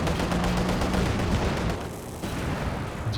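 Katyusha rocket artillery firing in Company of Heroes 2, with a dense rapid barrage of launches and booms that thins out partway through, loud and close.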